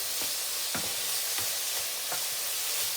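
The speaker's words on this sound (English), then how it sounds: "Just keeping it moving around the pan." Egg fried rice with chicken and bacon is stir-fried in a pan over a constant sizzle, with a spatula scraping and tapping about once a second.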